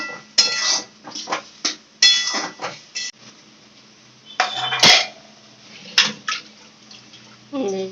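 Boiled peas stirred in a metal pot for ghugni, irregular close scraping and clanking of a spoon against the pot in short bursts, with a few sharper knocks and no voices.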